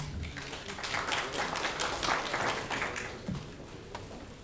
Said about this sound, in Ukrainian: Друзья, ваша аплодисменты.